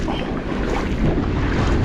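Choppy sea waves slosh around a small fishing boat, a steady rushing wash of water with wind buffeting the microphone and no voices.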